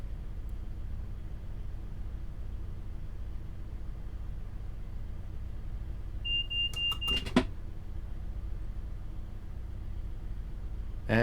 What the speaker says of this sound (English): we'll wait for that that guard's buzzer